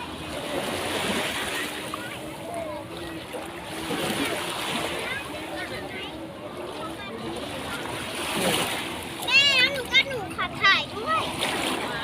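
Seawater is scooped and poured at Bang Saen beach, with splashing and sloshing over a constant surf wash. Someone talks throughout, and brighter splashes rise near the end.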